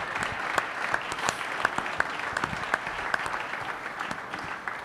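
A live audience at a Christmas special show claps steadily, a dense run of sharp hand claps filling the room without pause.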